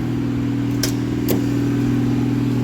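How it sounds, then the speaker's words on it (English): A 1982 Ford Granada engine running at a high idle while warming up, a loud steady droning hum with two brief sharp clicks early on. "Heck of a high idle."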